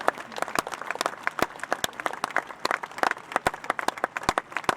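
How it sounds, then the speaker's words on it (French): Spectators applaud at the CIC** eventing competition in Pau in 2014. A modest crowd produces distinct, sharp individual claps that patter irregularly at a fairly quiet, distant level throughout. "Vos applaudissements à nouveau pour Arnaud Boiteau et Sultan de la Motte."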